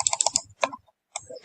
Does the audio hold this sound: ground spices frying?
no